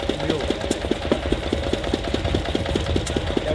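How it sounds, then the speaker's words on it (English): A 1911-era 20 horsepower Guinness barge engine from the Grand Canal runs at a steady idle, its rhythmic thumping beat loud and regular under faint crowd talk at an outdoor agricultural show. "This is a 20 horsepower engine"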